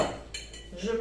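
A spoon scrapes and clinks against a bowl while stuffing is stirred for stuffed choux buns, continuous close kitchen clatter lasting about a second.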